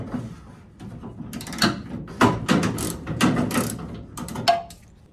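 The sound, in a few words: removing fasteners to pull a Jeep Cherokee body panel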